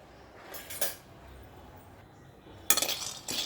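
Peanuts roasting in a kadai rattle and clink in a few short bursts of stirring, separated by quiet stretches, fairly soft and close.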